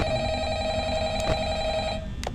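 Steady electronic phone ring from Five Nights at Freddy's, a continuous buzzing tone that cuts off near the end, followed by a couple of brief clicks over a low background hum.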